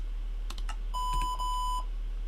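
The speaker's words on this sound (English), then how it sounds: "At least it beeps twice now." In-game computer in Minecraft Sky Factory 4 giving a short electronic beep after a few soft clicks, a clear steady tone with no talking.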